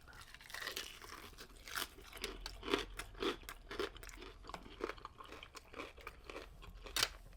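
Crispy fried hot chicken being bitten and chewed up close, a quiet series of sharp crunches in an uneven rhythm, loud in the foreground with no talk.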